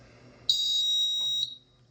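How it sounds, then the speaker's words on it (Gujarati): A small electronic buzzer in a reed switch circuit triggered by a magnet emits a single steady high-pitched tone for about a second, close and clear, then cuts off. "હું મેગ્નેટને જેમ નજીક લાવું છું તમે જુઓ છો તો બઝર વાગે છે"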